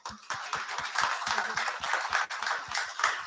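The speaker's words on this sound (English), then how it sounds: "I want to give you one more round of applause." An audience applauds in a steady round, dense overlapping claps close and loud throughout, a brief dip midway, for a talk on carbon-neutral clothing design.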